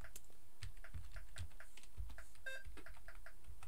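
Keys on a computer keyboard are tapped in an irregular run of close, quiet clicks, with a brief electronic beep partway through.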